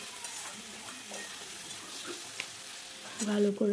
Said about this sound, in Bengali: এবার এটাকে দিয়ে কষিয়ে নিচ্ছি মশলাটাকে, তেল ছাড়া পর্যন্ত কষবো